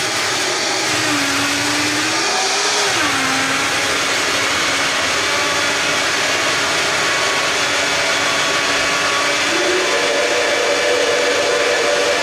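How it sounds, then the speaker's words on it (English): A blender runs loud and continuous through a raw vegan salad dressing, its motor whine rising and dipping in pitch as the load shifts, with no talking over it. "Okay, so we're going to blend this up."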